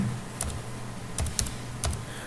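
Keys clack on a computer keyboard as Delphi code is typed, with a few short bursts of close, crisp taps spread over a soft steady background hum.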